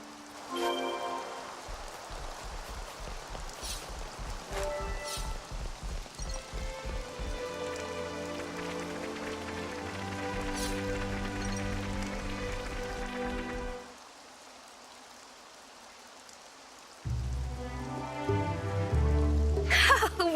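Rain falls in the video game Xenoblade Chronicles 3, a steady patter mixed under melodic game music that briefly thins out before swelling back near the end.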